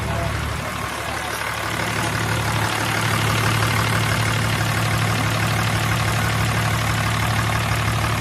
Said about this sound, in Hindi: ये हमारी गाड़ी स्टार्ट करी है और टर्बो हमने लगा दिया है।